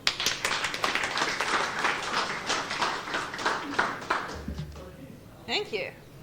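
Conference audience at GDG DevFest Sydney 2024 applauding a speaker, a brief round of clapping of moderate loudness that tapers off into a voice speaking.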